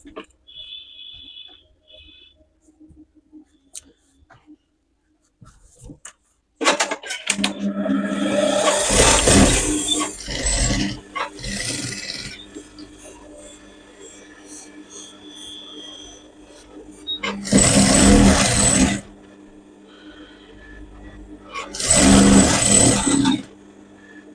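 A sewing machine stitches the edge of a coat made from waste fabric, running in several loud bursts of a few seconds each, separated by quieter pauses with handling noise and brief clicks.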